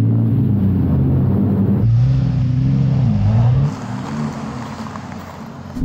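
Two Audi R8 supercars, one quattro all-wheel drive and one rear-wheel drive, accelerate steadily up a snowy slope with stability control on. Loud, close engine drone climbs in pitch, then eases off and fades slightly.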